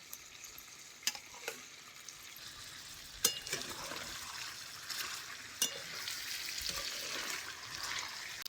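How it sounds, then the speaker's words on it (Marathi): Fried chutney goes into ground masala and sizzles in oil, giving a quiet steady frying hiss with a few sharp clinks and scrapes of a spoon, fairly faint and close, no speech. "आता ही पाट्या वाटलेल्या सौद्यात घालतो."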